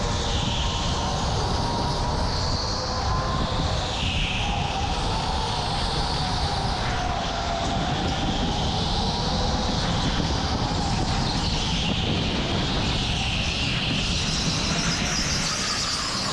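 Go-karts race around an indoor karting track in Katy, Texas, their motors whining continuously at close range with rising and falling pitch, a steady loud roar throughout without talk.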